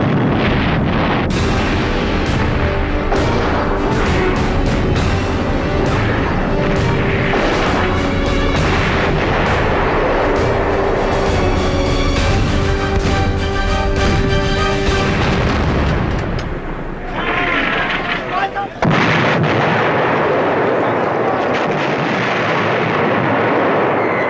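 Heavy artillery and gunfire roar almost without pause as North Vietnamese troops assault the Khe Sanh combat base, a dense, loud barrage of blasts and rattling shots that thins near the end into a lower rumble.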